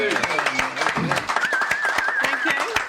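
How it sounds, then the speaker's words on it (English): A room of people applauding a newly engaged couple at a live talk show in a venue, clapping steady and close with a voice speaking over it partway through. "Got engaged yesterday, so big round of applause."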